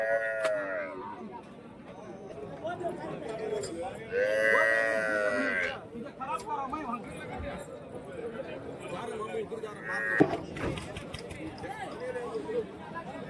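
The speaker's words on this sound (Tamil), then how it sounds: "நல்லா வந்து மடி வச்சிருக்கு மாடு" Cattle at a livestock market in Kuntharapalli, Krishnagiri district, low and drawn out, moo several times in loud bursts over a constant murmur of crowd chatter and nearby talking.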